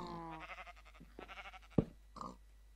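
Blocky sheep bleats from Minecraft come in short quiet bursts, mixed with soft game sound effects and one sharp louder thud, with no talk.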